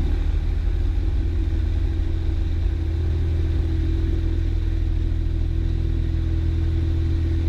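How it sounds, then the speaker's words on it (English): A small airplane engine held at full throttle for a short field takeoff, a loud, steady droning rumble with a constant pitch throughout, no talk. "Throttle up to full power."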